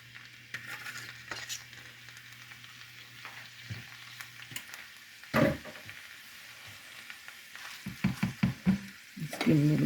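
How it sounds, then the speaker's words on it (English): Fresh greens hiss and crackle in a hot pan, a soft steady sizzle broken by scraping stirs and clinks of a utensil that grow busier toward the end. "let's just add our greens in. And these will cook down just like any other green."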